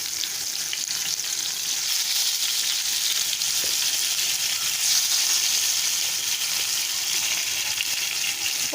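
Pointed gourd (potol) fries in a pan with a steady, bright sizzle that holds even and close throughout, with faint stirring scrapes now and then.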